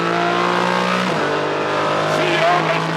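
Porsche 718 Cayman GT4 Clubsport race car accelerating on a track, its engine wailing loud and close with a quick drop in pitch at a gear change before climbing again.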